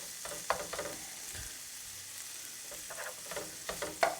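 Bacon sizzling in a pan over medium-high heat as its fat renders, a steady crackling hiss with occasional louder pops and stirring scrapes, close and alone.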